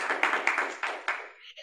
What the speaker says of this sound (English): you can clap, you can clap